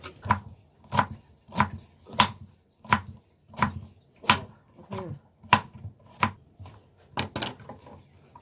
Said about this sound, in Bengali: আপাতত লাউটা কাটছি